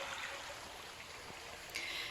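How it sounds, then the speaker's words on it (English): River water flowing steadily past a canal, a faint, continuous trickling rush heard from nearby with no voices. "And here is my favorite river."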